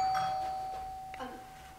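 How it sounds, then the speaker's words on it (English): A doorbell rings once with a clear electronic tone that rings out and fades, followed by a faint click. "That's just the doorbell"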